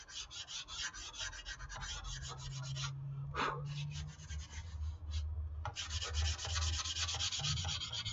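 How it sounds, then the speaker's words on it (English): Sandpaper rubs over a foam repair in close, continuous back-and-forth strokes with a brief pause in the middle, the rasping steady and fairly loud throughout. "And you just sand it until you're satisfied with it."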